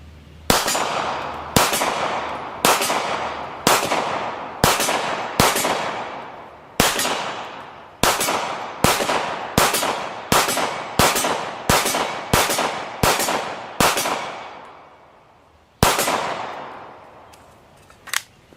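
A Steyr M9-A1 pistol fires about fifteen sharp, loud shots in a steady rhythm roughly one per second, each with a ringing tail, then a short pause before a final shot and a faint clink.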